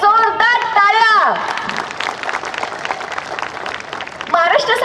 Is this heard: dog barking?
no